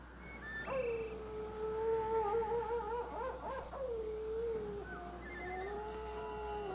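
A wolf howls in a Western TV drama, one long, sustained wavering call that rises, holds and slowly falls away, distant and eerie over a quiet outdoor hush.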